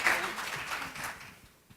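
A short burst of applause from an audience at a celebration dinner gala, loud at first and then thinning out into scattered claps before fading.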